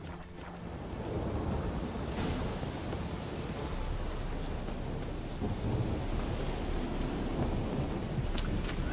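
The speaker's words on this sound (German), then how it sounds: "Scheiß Regen, ey." Steady, heavy video-game rain in The Witcher 3: Hearts of Stone, pouring at an even level with low rumbling underneath and no voices.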